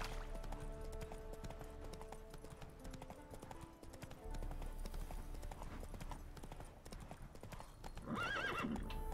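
Rhythmic clip-clop of a horse's hooves trotting along in the video game The Witcher 3: Hearts of Stone, with a loud spooked whinny near the end over a faint musical background.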